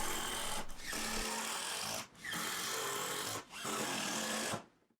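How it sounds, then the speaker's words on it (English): A power drill drives three-inch screws into 2x4 boards on a cutting board jig, its motor whirring in three long close bursts separated by brief pauses. "take some 3 inch screws and start toe screwing your 2x4s tight to the spacer blocks"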